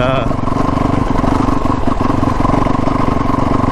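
A 2022 Yamaha YZ450FX dirt bike engine runs loud and close, a dense, steady rumble with rapid firing pulses and mechanical clatter that holds without a break.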